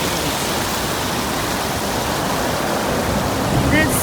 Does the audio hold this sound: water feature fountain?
yes